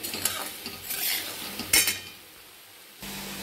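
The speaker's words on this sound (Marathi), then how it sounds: "आपले धने छान प्रकारे असे भाजत आलेले आहेत, अजून थोड्या वेळ आपण ते भाजून घेऊया।" Coriander seeds dry-roasting in a pan over a low flame, with soft scraping stir strokes and faint crackle in short bursts, close and quiet, no one speaking.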